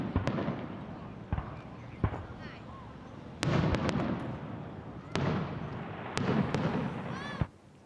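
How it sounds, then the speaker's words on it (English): Fireworks burst in the night sky over Toronto in a scattered series of sharp bangs, some followed by crackling, with a lingering rumble and distant crowd noise between them. "People were able to enjoy the fireworks as they lit up the night sky."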